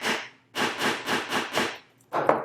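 Several hammer blows on a laser-cut wooden boombox part, close up: one strike, a pause, four evenly spaced hits, then two more after a short gap.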